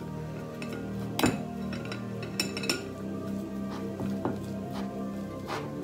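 A spoon mixing shea butter lotion in a bowl: light clinks and taps of metal on the bowl, spaced irregularly over a quiet background hum, close and fairly soft.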